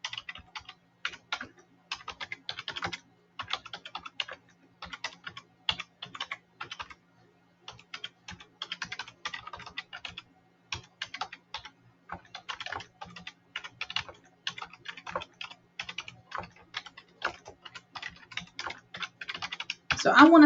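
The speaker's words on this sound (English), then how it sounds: "So I can type up an email that says, this is one that I commonly send out" Steady keyboard typing on a computer while an email is written, irregular clusters of keystrokes running throughout, fairly close and clear, with a louder burst right at the end.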